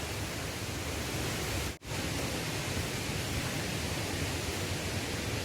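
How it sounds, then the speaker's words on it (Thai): A waterfall in Khao Yai National Park roars as dense, even broadband rushing, loud and continuous, broken only by one brief dip in the middle. "เสียงแห่งน้ำตก"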